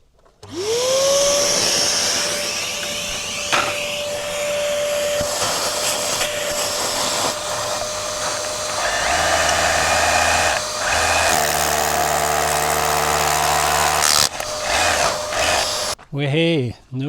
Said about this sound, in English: turn on the vacuum cleaner